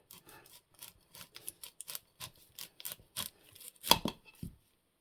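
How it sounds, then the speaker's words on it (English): A knife cuts the top off an onion with a quick series of close, crisp crunching slices, ending in a couple of sharper, louder cuts against a quiet background. "just cut the onion on the top"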